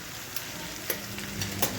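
Potatoes sizzle in a pan while a utensil stirs them, with a few light scraping clinks over the steady frying hiss.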